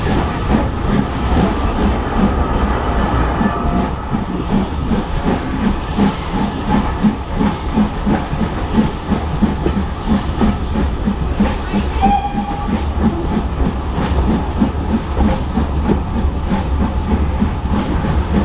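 Heritage steam train running on the North Norfolk Railway towards Holt, heard from inside a 1920s carriage compartment: a steady loud rumble of wheels and hiss with rhythmic rail clatter throughout, no talking.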